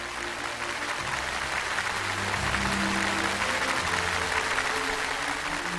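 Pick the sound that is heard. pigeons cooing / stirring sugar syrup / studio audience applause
studio audience applause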